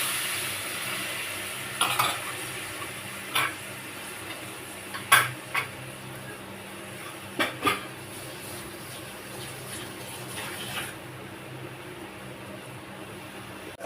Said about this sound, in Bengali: মশলা ভালো করে কষে নিচ্ছি